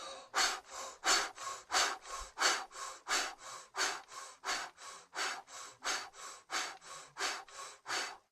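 Breath of fire done through the mouth: rapid, rhythmic forceful breaths, about two to three per second, each a sharp airy puff, steady and close with no talking over them.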